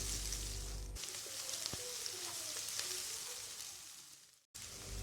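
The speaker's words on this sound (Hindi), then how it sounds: "प्याज को हमने ब्राउन नहीं करना, सौते करना है" Onions sautéing in a pan, a soft steady sizzle with scattered crackles and pops, brief low thumps at the start, and a sudden cut near the end before the sizzle resumes.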